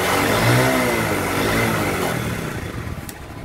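Motorcycle engine revved up close by while parked, a rising throttle blip that settles back toward a rough idle over a few seconds, with no talking.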